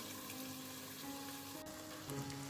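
Gongura mixture sautes in hot oil with curry leaves, garlic and chili, giving a steady, close, moderately quiet sizzle with faint tonal hum beneath, louder briefly near the end, no voices.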